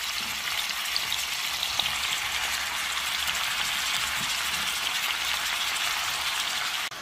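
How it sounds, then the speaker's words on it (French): Steady, loud sizzling of beef skin frying in hot oil, a dense crackling hiss that runs unbroken from start to finish. "je vais commencer par griller la peau de bœuf"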